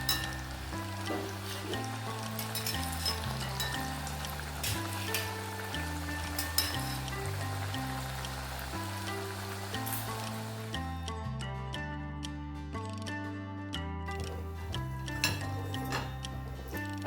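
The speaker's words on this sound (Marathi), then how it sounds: "अशीच आपण चकली ना सगळ्या ह्या तळून घ्यायच्या आहे" Chakli dough spirals frying in hot oil give a steady, soft sizzle throughout, largely under a prominent melodic music track.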